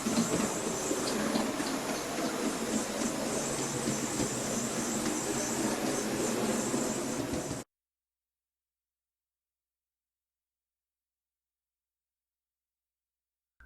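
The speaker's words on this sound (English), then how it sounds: "The Loco just ran very jerkily and would hardly consent to run in reverse on the layout at all." An OO gauge model locomotive running on a layout, a dense continuous whirring and clattering rumble with a hissing edge, steady for several seconds before cutting off abruptly into silence.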